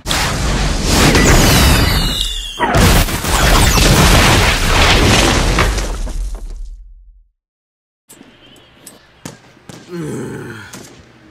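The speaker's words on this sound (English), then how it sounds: "Dropping an Apex bomb." A bomb dropped and exploding in an animated robot action show, a loud sustained explosive roar with a sharp burst midway, fading to silence before lighter crackling debris pops follow.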